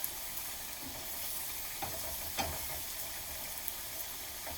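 Garlic and shrimp fry in garlic butter in a pan, making a faint, steady sizzle with a few soft stirring clicks and no talk.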